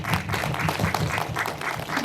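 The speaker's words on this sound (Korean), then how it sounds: "박수 부탁드릴게요." An audience at a film screening and talk applauds in a steady wash of clapping from many hands in a room, fairly even and unbroken for the short stretch.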